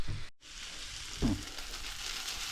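Eggs fry in a pan for a trucker's roadside supper, giving a steady close hiss and sizzle with a brief dropout near the start and a soft clunk partway through.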